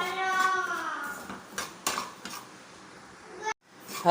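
Semolina (rava) is dry-roasted in a pan while a utensil stirs it. Scattered clicks and scrapes of metal come close by and fairly quiet, with a brief voice near the start and a sudden drop to silence near the end.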